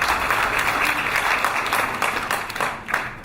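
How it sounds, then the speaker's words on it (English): Sustained applause from a summit audience for a governor, dense even clapping filling the whole moment and tapering slightly toward the end. "Please give him a big round of applause."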